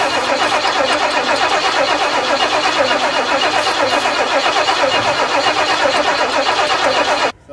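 A faulty car's engine cranks and catches, then holds a loud, steady running rumble up close for about seven seconds before cutting off abruptly.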